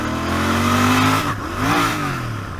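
A Royal Enfield Interceptor 650 motorcycle engine revs up and climbs in pitch, dips briefly during a clutchless upshift, then pulls up again before easing off.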